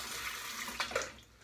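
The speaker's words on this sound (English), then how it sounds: "Rinsed off the hands real easy too." Hands rinsed under running water after a head shave, a short steady splashing rush with a couple of brief louder splashes near the end.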